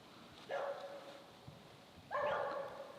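A Dalmatian gives two separate barks, each drawn out into a whining, yelping tone, close by in a quiet room, with a soft knock between them.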